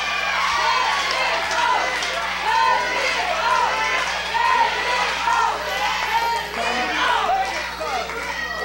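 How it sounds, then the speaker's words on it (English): A live crowd at an independent wrestling event shouts, cheers and calls out continuously in a reverberant hall. Excited voices rise and fall in waves, with a commentator's voice partly audible in the mix. "Crowd is calling for it here."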